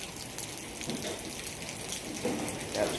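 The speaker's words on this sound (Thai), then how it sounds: "ฝนตกครับ" Rain falling outdoors at a Thai auto repair shop, a steady broadband patter with a few brighter drops, fairly close and continuous throughout.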